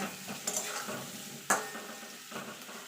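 Potatoes with turmeric frying in a pan for a no-onion, no-garlic aloo dum, a steady sizzle broken by scraping stirs and a sharp clank of the spoon near the middle.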